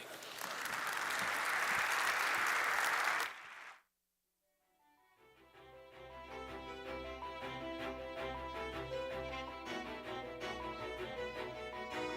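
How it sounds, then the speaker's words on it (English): Conference audience applauding a moderator and panelists at an emerging-market economies event, a dense, loud wash of clapping for about three seconds that cuts off, followed by quiet and then music. "Let's give one last round of applause for our moderator and panelists"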